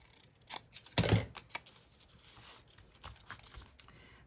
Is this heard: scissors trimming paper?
yes